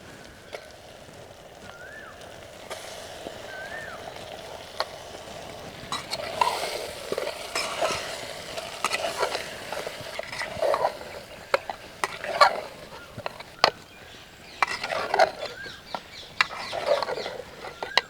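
Marinated chicken is stirred and fried in a pan with tomatoes, giving a steady sizzle under repeated scraping and clattering strokes of a spoon against the pan, close and clear, with no talking.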